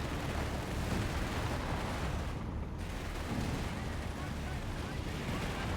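An OBJ artillery barrage pounds away in the strategy game Company of Heroes 3, a dense, loud wash of overlapping booms and rumbling blasts that runs almost without a break, easing only briefly midway.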